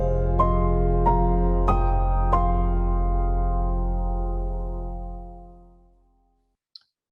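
A brand's short leitmotif is played in a minor key: four distinct struck notes ring out over a sustained low chord, then the sound swells and fades slowly to silence.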